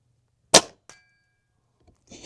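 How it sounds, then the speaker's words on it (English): A single sharp metallic clang as a .22 pellet from a Crosman Prospect airgun strikes a steel target at an airgun expo, followed by a faint ringing tail and a small later knock. "I like the sound of it hitting that."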